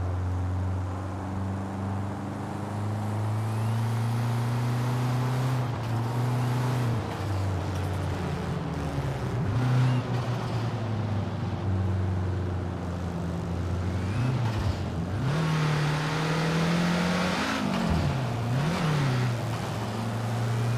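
BMW car engine in Forza Horizon 5 revving steadily and loud throughout, with pitch sweeping up and down through shifts and surges, no talk.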